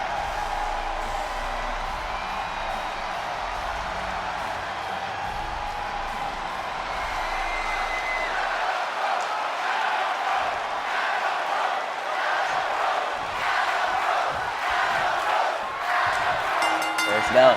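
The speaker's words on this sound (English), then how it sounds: "Capacity crowd here in DC chanting for Adam Cole" A capacity arena crowd in a Washington DC wrestling video game chants steadily, a broad rumbling roar of many voices that swells toward the end, with a sharp thump at the very close.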